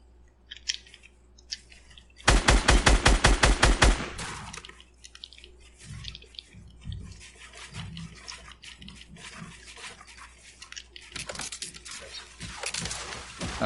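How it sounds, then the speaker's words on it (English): Rapid burst of gunfire in the video game Fortnite: a loud, evenly spaced string of about a dozen shots over two seconds, then scattered fainter impacts and game noise. "Oh, someone's shooting me down."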